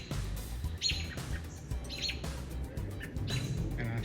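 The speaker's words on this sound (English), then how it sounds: "There's the birds. That's screaming at him." Small birds calling in agitation at a hawk perched nearby, several short bursts of chirps and squawks at moderate distance over a low rumbling background.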